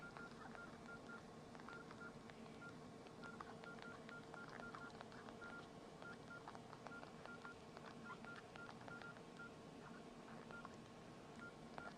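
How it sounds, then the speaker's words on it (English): Rapid phone keypad beeps while typing a text message, short touch-tone blips in quick irregular succession, faint over a steady background hiss. "I notice that sometimes the beeps don't keep up with my typing."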